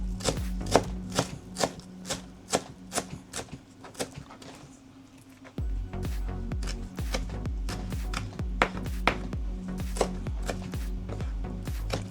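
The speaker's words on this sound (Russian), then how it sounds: "Берем хороший пучок кинзы и мелко ее нарезаем" A knife chops a bunch of cilantro finely on a board for a red shashlik sauce, with rapid, steady, close knocks that pause briefly near the middle and then resume more densely.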